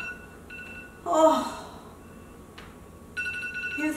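A timer bell rings in two short bursts after a squat challenge, thin and fairly faint against a quiet room.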